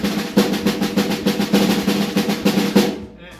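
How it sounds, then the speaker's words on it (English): Snare drum in a school band setting, a fast, crisp roll of buzzing strikes for about three seconds before stopping abruptly, close and fairly loud. "Our snare drum, which we talked about in the previous lesson,"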